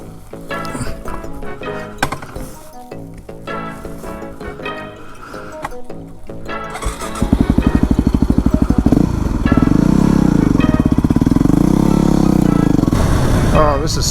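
Black Yamaha WR250R dual sport motorcycle fitted with supermoto wheels, ridden on twisting roads; a steady engine drone builds louder partway through and holds under wind rush, with rider talk over the first half.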